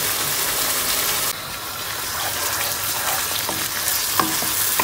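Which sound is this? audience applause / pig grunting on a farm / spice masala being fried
spice masala being fried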